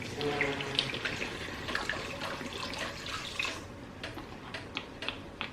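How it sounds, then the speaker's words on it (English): Wine pours into a pot of beef stew with a close, trickling splash, followed by a few light clinks and taps toward the end. "So I'm gonna add 1 cup of wine."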